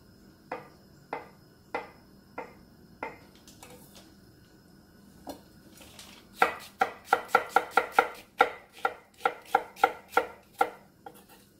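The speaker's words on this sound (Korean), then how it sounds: "두부와 양파를 썰어 볼게요." A knife chops tofu and onion on a cutting board for kimchi stew, first with slow, evenly spaced single chops, then a brisk rapid run of crisp strokes, close and clear in a quiet kitchen.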